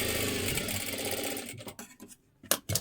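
A sewing machine stitches blouse fabric with a fast, steady mechanical whir for about a second and a half, then stops and gives a few short bursts of stitching.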